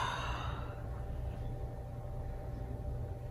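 A deep, steady exhale during a yoga breathing exercise in a church sanctuary, heard as a long, even breathy rush that tapers off near the start over a constant low room hum.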